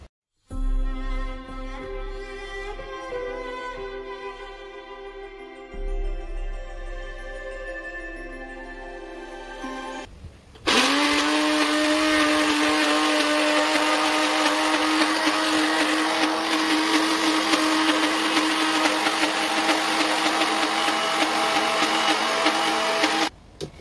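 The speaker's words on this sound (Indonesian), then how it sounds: "Kita blendernya ditaruhin minyak sedikit dan air supaya gampang blendernya." Kitchen blender pureeing shallots, garlic, galangal and lemongrass with a little oil and water: a loud, steady high-pitched motor whir starts abruptly midway and runs continuously, preceded by a quieter tonal hum.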